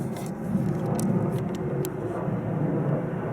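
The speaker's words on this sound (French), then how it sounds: "il y a un avion qui passe juste devant" Steady broad roar of an airplane passing close by near an airport in Dubai, a continuous loud rumbling whoosh that holds evenly throughout, with no one speaking.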